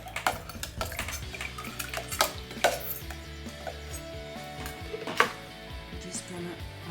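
A spoon stirs fresh lime juice and sorrel drink in a glass or pitcher, giving repeated close clinks and scraping knocks against the container's sides with a few sharper taps.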